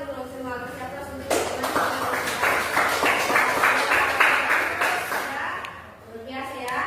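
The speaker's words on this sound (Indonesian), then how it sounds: "tepuk tangan dulu semua peserta" Workshop participants clapping together in an indoor session: a steady, busy patter of many hands lasting several seconds, over a continuous murmur of voices.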